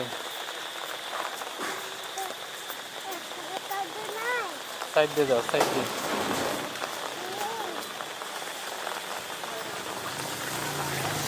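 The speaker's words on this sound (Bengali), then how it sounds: "তোর মাথায় বৃষ্টি পড়ছে না" Steady rain falls on an outdoor path of uneven, muddy road with puddles, a continuous patter running the whole time, with people talking over it and a voice rising and falling near the middle.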